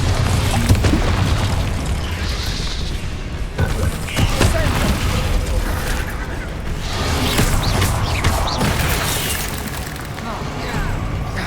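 Bombarda blasting spells explode repeatedly in Hogwarts Legacy, loud booming bursts and crackling debris layered with shouted spell incantations and other combat noise throughout.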